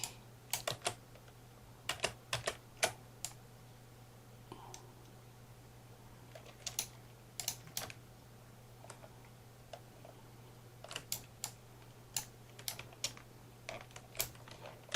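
Computer keyboard keys pressed for copy and paste shortcuts, quick clusters of soft close clicks with pauses between, over a low steady hum.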